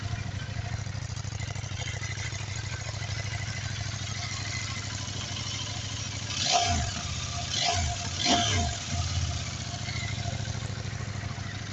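CF Moto 800 MT motorcycle with its KTM 790-derived twin engine idling quietly, then three sharp throttle blips revving up and falling back, alone without talk.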